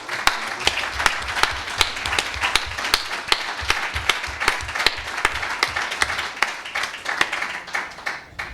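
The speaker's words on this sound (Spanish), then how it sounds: "Un aplauso para ti." Audience applause at a university conference session on the Russian invasion of Ukraine, lively clapping from a modest crowd with distinct, rhythmic individual claps close by, steady throughout and then tapering off.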